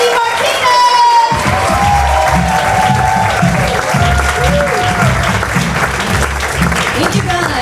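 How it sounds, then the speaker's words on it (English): A comedy club audience at a stand-up show breaks into loud, sustained applause and cheering, dense clapping filling the room while voices call out and a host speaks over it. "Put your hands together, start clapping"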